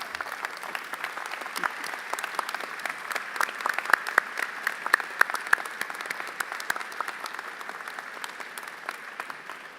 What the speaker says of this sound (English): I think a standing ovation's a nice idea, if we might.